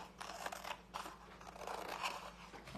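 Scissors snip out a paper stencil with a quick run of faint, close crisp cuts and rustles, several snips in a row, with no talking.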